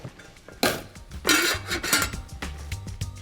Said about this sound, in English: drain potatoes, put the lid on